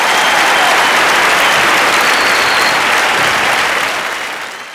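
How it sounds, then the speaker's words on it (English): Loud, dense applause from a large audience greeting an introduced guest at a stage event, close and full, tapering off toward the end. "Ladies and gentlemen, a round of applause for my partner in crime,"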